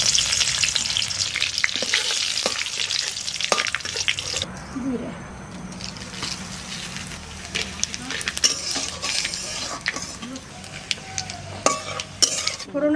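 Hot oil for tempering vegetable khichuri sizzles loudly in a covered kadai, with stirring and clinking of utensils throughout, the hiss shifting in intensity as ingredients hit the pan.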